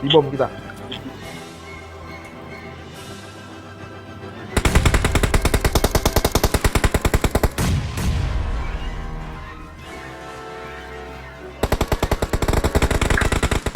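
PUBG Mobile gameplay with bombardment: a deep blast opens, then long loud bursts of rapid gunfire, rumbling booms and a second burst of automatic fire, close and harsh, with players talking over it.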